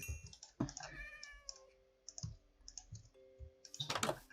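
A cat meows inside a Minecraft hardcore game: several short, close meows with rising-falling tones, mixed with computer keyboard typing and clicking and a louder burst near the end.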